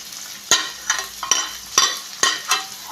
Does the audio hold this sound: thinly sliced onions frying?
yes